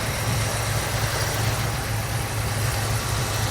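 A Ford Mustang Mach 1 engine idles steadily and nearby, a low, even rumble with a constant hum and no revving or voices.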